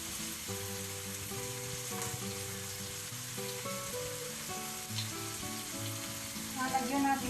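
Ground pork frying in a pan for spaghetti, giving a steady close sizzle that continues throughout, with no talking over it.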